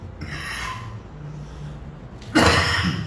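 A single sharp cough bursts out near the end, after a stretch of quiet room tone.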